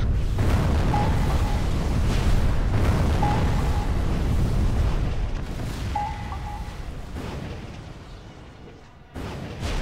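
Missile strikes on Moscow in the ICBM strategy game: heavy rumbling explosions roll on in a loud, sustained barrage, small chiming alerts ring through, and the roar fades before a final boom.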